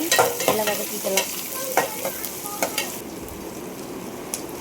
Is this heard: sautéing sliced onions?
yes